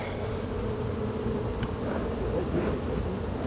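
Bees hum in a steady, dense drone close by near a backyard hive, a continuous buzzing wash without breaks and with no talk over it.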